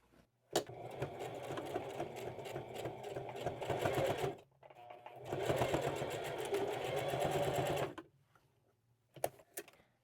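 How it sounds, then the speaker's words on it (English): A sewing machine stitches across the strap ends of a tote bag in two long, steady runs of rapid needle chatter with a short pause between them, then stops, leaving a few faint clicks. "I'm going to attach the strap to the body of the bag by sewing across each end"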